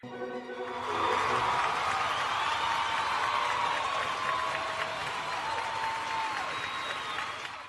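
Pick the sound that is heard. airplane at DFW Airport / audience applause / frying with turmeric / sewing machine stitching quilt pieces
audience applause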